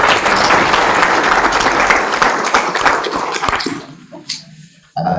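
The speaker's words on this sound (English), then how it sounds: "kindly let's all give a round of applause for her" Loud audience applause rises at a medical school white coat ceremony, sustained and dense for about three seconds before fading out into scattered claps and near-silence.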